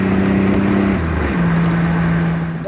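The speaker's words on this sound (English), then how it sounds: "Turbo hits." A 1987 Buick Grand National with its 3.8-litre turbo V6 and 39,000 miles accelerates hard under boost, the engine droning loud and close inside the cabin, its pitch shifting as the gear changes, with no talk.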